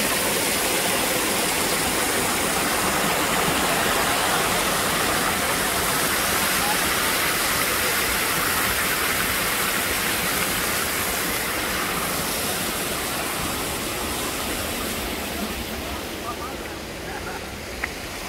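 Rushing water of the river and waterfall at Dunn's River Falls in Ocho Rios, Jamaica: a constant, broad roar that holds steady and eases slightly toward the end.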